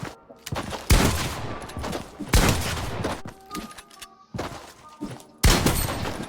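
Several loud pump shotgun blasts ring out in a video game, about four separated shots with pauses between, each a sharp crack with a brief decaying tail and faint background game sounds.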